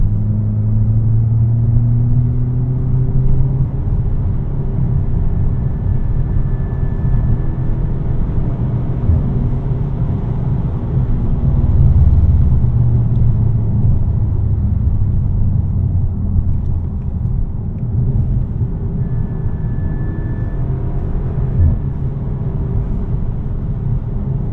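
A VW Mk6 Golf GTI with a DSG gearbox cruises casually, steady low engine drone and road rumble filling the cabin with no sharp revs or shifts standing out.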